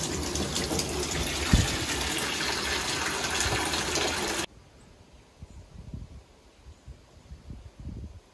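Water gushes loudly into a big bucket being filled for flushing a toilet during a storm, a steady rushing fill that cuts off abruptly halfway, leaving quiet rustling and faint knocks.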